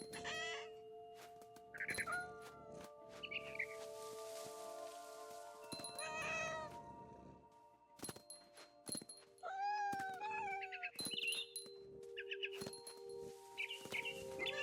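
A cat in What Remains of Edith Finch meows several times alongside clucking, fowl-like bird calls over a constant background hum, the cries coming in scattered bursts.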